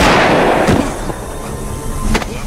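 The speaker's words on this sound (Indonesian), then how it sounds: "Ricky langsung menembak si Ki-Wong tepat mengenai dadanya" A single pistol shot in a film scene, a sharp loud crack near the start, followed by lighter clattering impacts and background noise.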